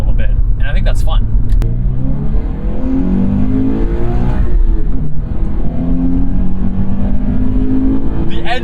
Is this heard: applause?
no